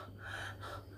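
A man imitates breathless panting, one rough, audible gasping breath drawn in and pushed out at close range.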